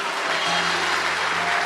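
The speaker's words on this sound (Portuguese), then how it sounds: "Dê um forte aplauso ao Senhor." Congregation at a church service applauding, a steady dense wash of clapping with a sustained tone from a held note or voice underneath, continuous from start to finish.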